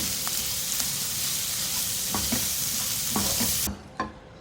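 Chopped green chillies are stirred into a frying masala, producing a loud steady sizzle with scraping strokes of a spoon that stops abruptly near the end, followed by a single clink.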